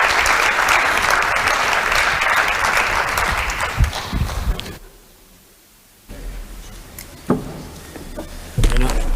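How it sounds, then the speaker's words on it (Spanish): Audience applause at the IberOleum olive oil guide presentation, loud dense clapping that stops abruptly partway, followed by near silence and a few scattered handling and rustling noises. "Pido mi aplauso, por favor."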